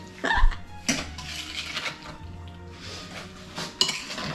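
Peach galette filling being mixed in a bowl, with clinks and knocks of a utensil against the dish, intermittent and close, a few sharper taps between quieter stirring.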